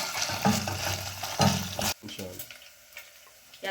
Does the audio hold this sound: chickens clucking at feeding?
no